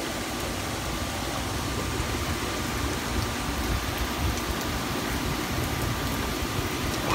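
Heavy rain from a nighttime thunderstorm pours down in a dense, constant hiss, steady and unbroken, with no thunder or voices standing out.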